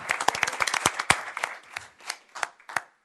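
Scattered, uneven clapping from a small group of attendees at a city council meeting, a dozen or so sharp claps that thin out toward the end, with no talking over them.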